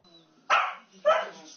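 A pet dog gives two sharp, close barks about half a second apart, separated by quiet.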